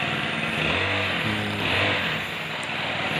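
A Honda grass cutter engine runs steadily after its carburetor is cleaned and its fuel hose replaced, giving a close, even small-engine drone with a slight wavering in pitch.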